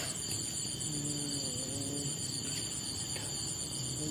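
Crickets chirping at night, a dense continuous high-pitched trill that holds steady from start to end, close and fairly loud, with a faint low hum underneath and no talking.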